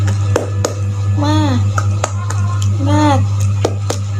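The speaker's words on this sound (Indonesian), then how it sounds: "Coba kita tepuk semangat." A primary-school class does the rhythmic tepuk semangat chant, with sharp claps in a beat between short sung chant phrases. A steady electrical hum runs underneath.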